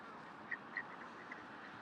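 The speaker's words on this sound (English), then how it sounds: "Birds are just following me now." Ducks quack at Queen's Park in Longton, Stoke-on-Trent, a few faint, short quacks spaced apart over a soft outdoor background hum.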